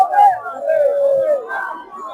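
A crowd of pilgrims at the palkhi procession in Pune chants together in loud, drawn-out unison, close and strong, with a rising and falling group voice over background hubbub.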